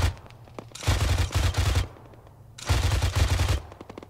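Bursts of rapid automatic gunfire in a military shooter: two long volleys of close, loud rattling shots about a second apart, separated by a quieter gap.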